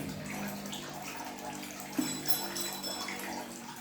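Water running and splashing in a bathroom with tiled floor, a steady close rushing flow throughout with a brief knock partway through and no one speaking.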